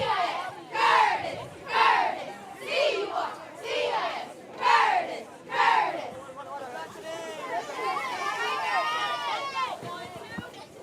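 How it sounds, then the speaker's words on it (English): Cheerleaders at a high school football game chant in rhythmic bursts, about six shouted phrases, then the crowd keeps cheering and chattering, moderately loud. "The cheerleaders sound good."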